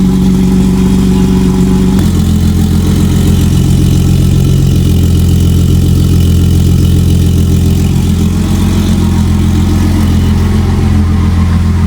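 BMW E36 idling with a full stainless-steel exhaust system, a steady loud low rumble with a deep burbling pulse that holds throughout, shifting slightly in tone after a couple of seconds.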